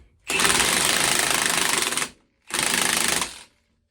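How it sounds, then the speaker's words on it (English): An impact wrench tightens a nut on the suspension of a 1.8T VW Corrado, firing two loud, close rattling bursts: a long one of nearly two seconds, then a shorter one after a brief pause. "Grab your impact, and then drop the nut from the last one on top of it"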